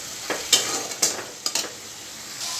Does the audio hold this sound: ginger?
yes